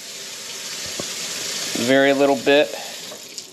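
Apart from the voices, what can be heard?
water running from a tap to top off a stain remover mix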